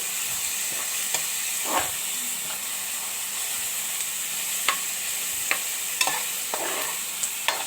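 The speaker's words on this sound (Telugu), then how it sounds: "ఇవి బాగా గోల్డ్ కలర్లో వచ్చే వరకు వేయించుకోవాలండి" Chopped onions fry over a high flame for an Andhra brinjal and tamarind-leaf curry, giving a steady, close hiss and sizzle with occasional sharp spatula scrapes and clinks against the pan.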